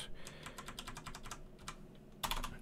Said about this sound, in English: I'm just gonna hit the up arrow on my keyboard